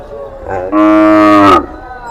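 A cow at a Qurbani cattle market in Bangladesh lets out one loud, drawn-out moo of nearly a second, close by and rising then falling, over faint crowd murmur.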